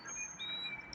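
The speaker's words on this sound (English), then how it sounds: "The birds are singing." Morning birdsong of thin, high chirps and whistled notes repeating over a soft, steady outdoor hiss, with no voices.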